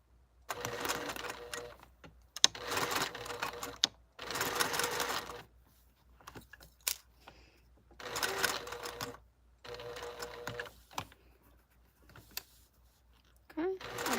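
A sewing machine stitches in several bursts of fast, whirring needle chatter lasting a second or two each, separated by pauses and faint handling noises.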